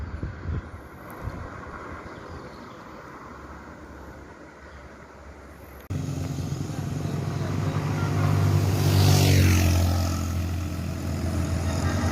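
A Transport Ekspres Jaya intercity bus heading for Jakarta rumbles past outdoors, its deep engine drone swelling loudly in the second half with a brief rising whine, over steady wind and road noise.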